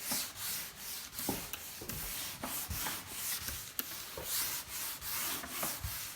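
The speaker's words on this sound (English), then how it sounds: "So with the flusher, you're spraying and you're scrubbing at the same time." A mahogany dining table is scrubbed while being sprayed with paraffin-based flusher during lacquer stripping, a steady close rhythmic rubbing and scraping with regular strokes roughly twice a second.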